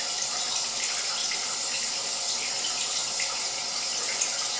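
Steady running tap water pours continuously into a sink where a parakeet is being coaxed to bathe, a close, even hiss with no pauses.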